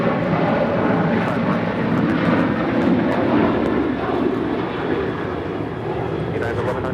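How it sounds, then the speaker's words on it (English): United 737-800 airliner taking off from LAX for Denver, a broad, steady jet roar rumbling continuously from a distance, with voices speaking over it. "That was United 1100 taking off to Denver on a 737-800"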